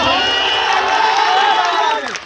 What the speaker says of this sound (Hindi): तो आप सब जोरदार ताली बजाइए।